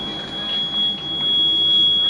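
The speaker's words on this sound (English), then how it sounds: "The alarm you're hearing is just airing up the airbags" A Class A motorhome's alarm sounds as its air suspension airbags fill to 120 psi, a steady high-pitched continuous tone with a brief gap, over a low background rumble.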